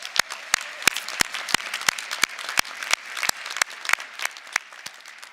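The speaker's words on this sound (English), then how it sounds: "Please give them a round of applause." Loud, steady applause from a commencement audience of parents, families and friends honoring graduates, with dense overlapping clapping and sharp individual claps throughout, no voices over it.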